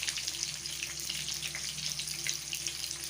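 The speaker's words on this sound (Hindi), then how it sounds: "प्याज अब मैंने सारे फ्राई होने के लिए रख दिए हैं।" Onions frying in a pan for street-style pan fry, a steady close hiss and crackle of sizzling oil running continuously without pause.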